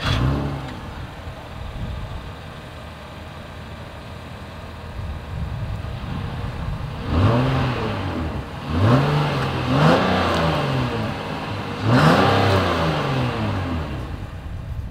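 A 2023 Acura MDX SUV engine idles, then revs hard several times through the exhaust, each rise in pitch loud and close.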